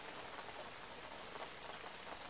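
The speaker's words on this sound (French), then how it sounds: "Une pluie commençait à tomber." Rain begins falling, a soft, even hiss of drops, faint and steady throughout with no other sounds.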